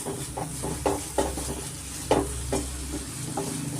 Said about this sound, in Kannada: ಮೀಡಿಯಮ್ ಫ್ಲೇಮಲ್ಲೇ ನಾವು ಒಂದೆರಡರಿಂದ ಮೂರು ನಿಮಿಷ ನಾವು ಸ್ವಲ್ಪ ಫ್ರೈ ಮಾಡ್ಕೊಳ್ಳೋಣ